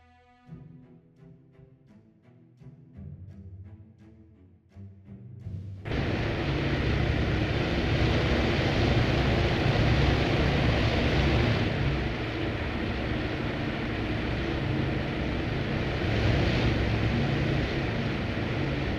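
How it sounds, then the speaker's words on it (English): Several carrier-based aircraft engines in the Task Force Admiral naval game start up together near Midway, building from scattered ticks and coughs into a loud, steady, broad droning hum that holds for the rest of the stretch, with no talk. "All of them starting their engines. Super cool. Just listen to the hum."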